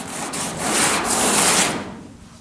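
Sandpaper rubbing over body filler on a car quarter panel during GTO bodywork, a steady close scratchy hiss with light back-and-forth strokes for about two seconds, fading out at the end, no talk.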